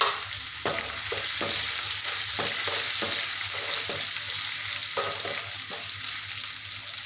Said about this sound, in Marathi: एक बारीक चिरलेला टोमॅटो घालते